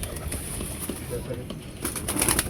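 Soft pigeon cooing from a flown hen pigeon among Teddy pigeons, faint and close, mixed with other bird sounds and someone speaking nearby.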